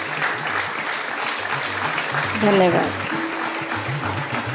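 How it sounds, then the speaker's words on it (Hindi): Audience clapping together at an Arya Mahila Samaj women's gathering in Ghatkopar, a steady wash of applause under a spoken word of thanks, swelling briefly near the middle. "सब ताली मार के ताली बजाइए अच्छी से।"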